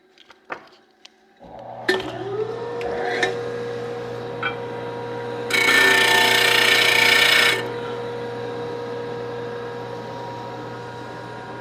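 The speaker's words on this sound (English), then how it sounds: "So back to the sander, take a little more off." A power sander takes material off a segmented turned wood piece: the motor hums steadily, a few short contacts come first, then a loud two-second burst of abrasive grinding before it settles back to the running drone.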